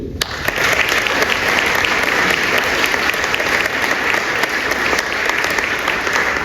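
An audience at a French literary prize ceremony breaks into loud, sustained applause, thick even clapping that holds steady for over six seconds with no voices above it.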